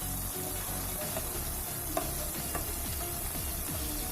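Pazham pori, battered banana fritters, fry in hot oil with a steady, dense sizzle. Occasional soft clinks and scrapes come as the fritters are turned, and no one speaks.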